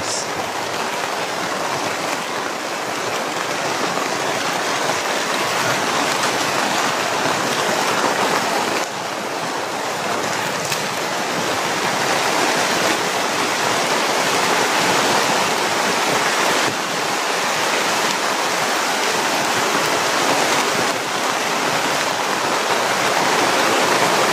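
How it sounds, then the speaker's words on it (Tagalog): Heavy rain pours continuously and loudly for the full length, a dense unbroken hiss with no pauses, recorded outdoors close to the downpour. "Kita nyo, sobrang lakas ng ulan."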